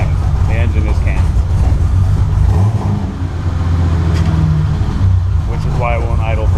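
A BMW M30 engine fitted with an aggressive cam runs with a loud, deep, lumpy rumble that carries steadily throughout, with a person talking over it.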